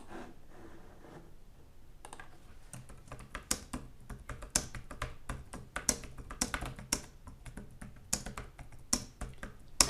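Someone types a post on a computer keyboard, a fast, uneven run of close, crisp key clicks that starts quietly and grows denser and sharper, with no voice over it.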